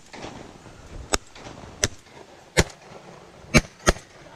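Shotgun blasts during a Michigan duck hunt: five sharp, loud reports spaced irregularly over a few seconds, each a brief broadband crack against quiet outdoor background.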